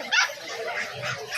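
A two-month-old poodle puppy at a pet market in Bocaue whimpers and gives a few short, high yips close by, with people talking over it.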